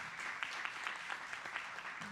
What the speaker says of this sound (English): Hey, let's clap it up for everybody,